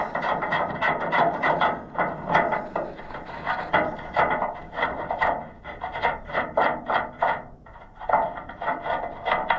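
A ratchet wrench turning bolts on an Allis Chalmers 175 tractor, giving close, repeated bursts of rasping clicks in an uneven working rhythm, with no speech.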